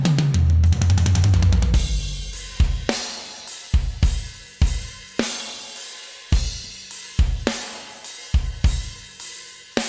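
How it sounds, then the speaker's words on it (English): Full drum set mixed with compression, EQ and reverb: a rapid fill rolls into a steady groove of punchy kick and snare hits with crisp cymbals, loud and alone. "So let's take a listen to the whole drum set."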